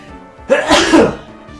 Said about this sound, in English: I think I have to sneeze now.